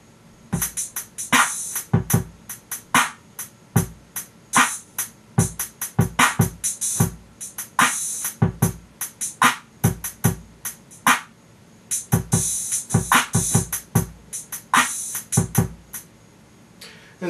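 A programmed drum track for a song idea plays alone in a steady groove, with punchy kicks and crisp snare and hi-hat hits repeating in regular bars, up close and fairly loud throughout.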